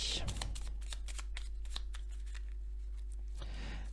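Small paper word cards riffled and shuffled in rapid crisp bursts, close and quiet, with people speaking softly around it and a steady low hum underneath.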